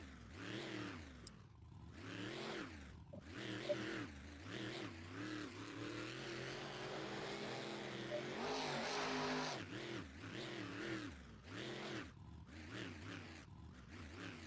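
Vehicles racing in the racing lane at the Controlled Carnage pre-show in Toronto, with repeated rising and falling engine revs, one after another, fairly faint and distant.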